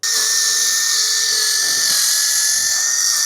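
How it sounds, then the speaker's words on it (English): A high, continuous whine of a drill fitted with an oval bit runs without a break, loud and close, holding one steady pitch, during a hose reel installation. "we have to bust out the oval drill bit."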